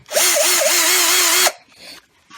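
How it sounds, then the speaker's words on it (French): An electric drill bores a hole through steel for a shuriken: a loud, steady whirring whine for about a second and a half that stops abruptly, leaving faint handling noises. "perceuse dans le trou bien droite et on pousse."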